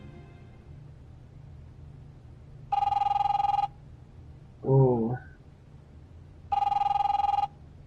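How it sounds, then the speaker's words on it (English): Telephone ringing in the game The Wolf Among Us, two separate electronic rings a few seconds apart over a low hum, with a short vocal sound between them. "Who's gonna pick up the phone?"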